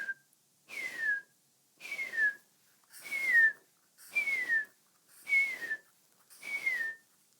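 Seven evenly spaced whistled notes, each a short downward-sliding tone, imitate a bullfinch call. Each note is clear and fairly soft, with short silences between.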